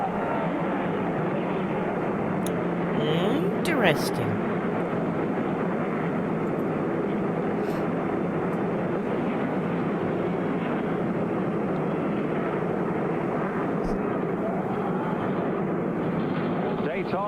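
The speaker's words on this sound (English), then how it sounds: "Daytona Beach comes alive with the sound of Winston Cup engines." Winston Cup stock car engines roaring at Daytona, a steady loud broadband drone that holds for the whole stretch, with a brief word of speech near the start.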